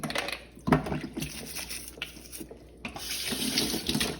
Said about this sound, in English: We're using this brush, warm soapy water, and rinsing.